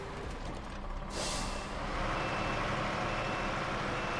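A logging truck reverses in SnowRunner's Alaska map, with a steady diesel engine rumble and air brake hiss beneath a continuous backing beeper. A brighter burst of hiss comes partway through, and no one speaks.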